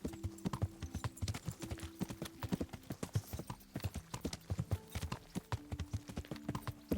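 Rapid, rhythmic hoofbeats of a galloping horse in the video game Kingdom Come: Deliverance, clattering steadily and close throughout.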